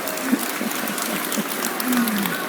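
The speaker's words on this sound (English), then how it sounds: "Give him a round of applause, everybody." Audience applause at a political rally in British Columbia, a steady wash of clapping with scattered whistles and cheers, fairly close and continuous throughout.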